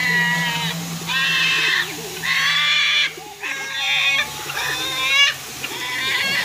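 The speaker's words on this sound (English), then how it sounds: "That's Fluffy, the big male Moluccan that you hear in the background" A large male Moluccan cockatoo calls in the background with loud, harsh, repeated screeching bursts, about five in a row, each lasting roughly a second with short gaps between.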